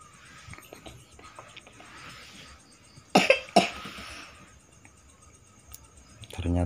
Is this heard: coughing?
yes